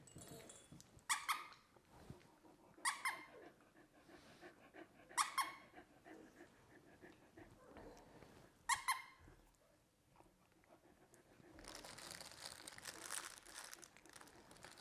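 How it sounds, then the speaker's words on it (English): A squeaky dog toy squeaker is squeezed near three-week-old Goldendoodle puppies, giving four sharp squeaks a couple of seconds apart, followed by faint crinkling and soft rustling. "let's see how you do with the squeaker"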